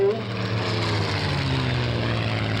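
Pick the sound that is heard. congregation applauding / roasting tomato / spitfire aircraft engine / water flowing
spitfire aircraft engine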